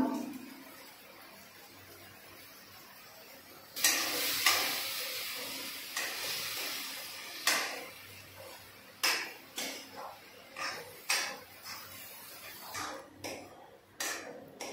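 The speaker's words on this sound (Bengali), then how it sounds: "এখন নাড়াচাড়া ভালো করে নিচ্ছি।" Mango chutney with salt and turmeric is stirred in a frying pan: a soft sizzle, then a string of sharp scraping and tapping strokes of a spoon against the pan, close and moderately loud, with no talk.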